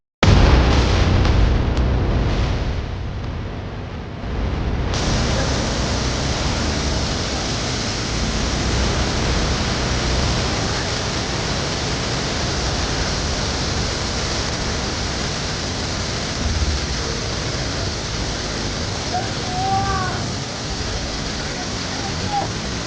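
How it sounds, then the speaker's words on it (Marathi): Ekiv waterfall near Satara, a broad, steady roar of falling water close by that continues unchanged for about twenty seconds after a brief louder opening, with no clear talk. "एकवीव धबधब्याला आलो आहे"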